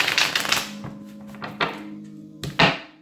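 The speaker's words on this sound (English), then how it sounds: "One more shuffle." Tarot cards are shuffled by hand in a quiet room, producing a few quick riffling and tapping bursts with soft thumps between them and brief pauses of near silence.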